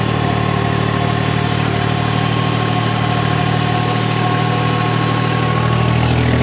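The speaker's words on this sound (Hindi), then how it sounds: "और ट्रैक्टर बंद नहीं हो रहा" A 50 HP tractor engine labours steadily under heavy load in soil, a loud continuous mechanical drone that holds without stalling throughout, with no voices.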